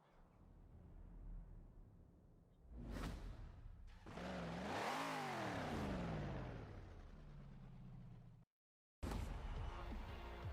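A Dodge Charger RT's exhaust roars up and swells in a loud, close rev that rises and falls over several seconds, with whooshing bursts before it, a brief dropout, then more engine noise.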